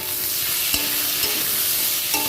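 Vegetable stalks frying with potatoes in a pan, a steady close sizzle broken by a few spatula scrapes and knocks against the pan.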